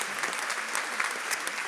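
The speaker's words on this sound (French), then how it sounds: "Donc merci, on peut vraiment les applaudir." A crowd applauds with a dense, steady clatter of hands, moderately loud and continuous.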